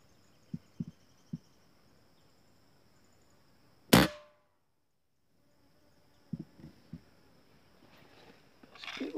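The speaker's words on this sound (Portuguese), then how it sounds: "Vou tentar outro disparo lá." A single sharp rifle shot cracks during a seriema hunt with a scoped rifle outdoors, loud and sudden, preceded and followed by a few faint soft knocks against quiet background ambience.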